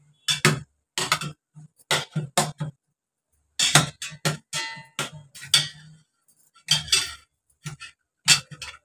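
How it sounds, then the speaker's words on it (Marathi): A metal spoon mashes peeled tomatoes in a dish, giving bursts of close clinking and scraping in irregular clusters with short silent gaps between them. No one talks. "काय चमचा घ्यायचा आणि ह्याला चमच्याने बारीक करायचं"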